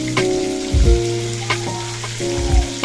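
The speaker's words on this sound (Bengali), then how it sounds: "দেখতে পাচ্ছি খুব সাবধানেই আমি মাছটা ওলটাচ্ছি" Fish frying in hot oil for a Bengali katla kalia, a steady close sizzle with two heavier splattering bursts as the fish is carefully flipped in the pan.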